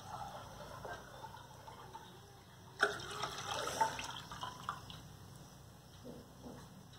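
Tap water runs softly into a bowl while the water is changed for homemade mozzarella, a low steady trickle with a brief splash and some clatter partway through, fairly faint and without talk.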